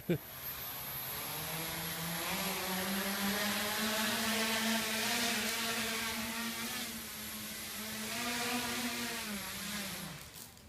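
Tricopter rotors spin up into a steady, close, buzzing whine that holds for several seconds with slight pitch swells, then winds down at the end.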